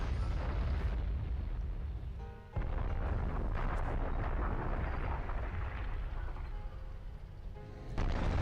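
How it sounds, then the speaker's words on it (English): Artillery fire from a Blitzkrieg mod wargame set in 1943 North Africa, with 25-pounder guns in action, forms a dense, continuous rumble of overlapping explosions, briefly dipping before resuming and swelling again near the end. "Both sides are using artillery quite aggressively."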